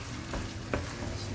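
Chopped canned tomatoes stirred into sizzling beef in a pan for moussaka, a steady frying hiss with a couple of soft scraping strokes of the spoon.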